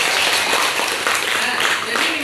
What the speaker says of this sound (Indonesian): Beri aplaus kepada Nela.